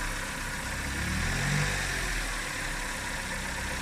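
A Nissan Micra K11 engine is held at raised revs during servicing, a steady, close mechanical drone with a slight swell in the middle and no talking over it.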